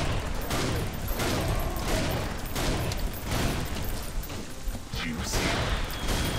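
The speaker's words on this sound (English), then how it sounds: "Oh, fireworks." Fireworks burst in a chaotic run of rapid cracks and booms during the video game Painkiller, dense and loud throughout with scattered sharper pops.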